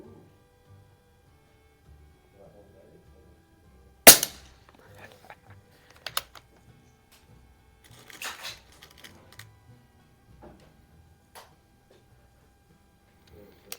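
An Umarex Iconix Buck Rail air rifle with a collet suppressor fires at spinner targets outdoors at a range: one sharp crack, then scattered metallic clinks and rattles, faint in a quiet setting with a little speech.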